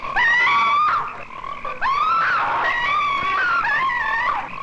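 Frogs croak loudly and continuously for several seconds in a 1972 horror film trailer, a dense chorus of warbling, wavering calls that rise and fall, with no voices.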